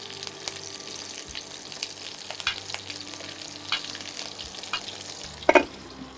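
Eggplant and other vegetables fry in a pan with a steady, quiet sizzle, a few faint utensil taps along the way and a short sharper clink near the end.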